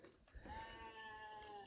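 A tethered sheep gives a single drawn-out bleat, faint and somewhat distant against a quiet outdoor background.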